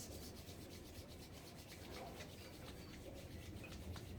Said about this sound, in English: we're gonna rub our hands against each other, creating some heat